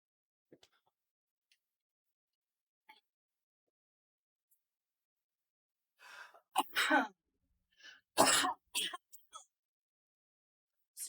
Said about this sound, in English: I'm so sorry about the cough.